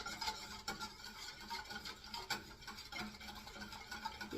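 Rhythmic rasping scrape of a whisk beating Haitian fruit custard mixture in a bowl, fast continuous strokes close up.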